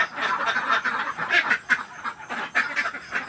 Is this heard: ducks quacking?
yes